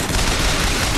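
Gunfire from a firefight in the video game Bioshock Infinite: a dense, continuous burst of overlapping shots at a steady loud level for the whole second, with no talking.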